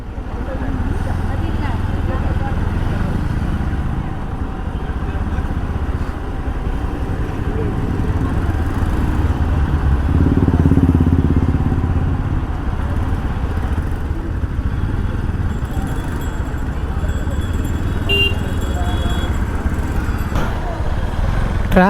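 A motorcycle engine runs steadily amid heavy traffic near a park parking area in Yercaud during the 2024 flower show, making a constant rumbling drone with roadside noise and voices mixed in.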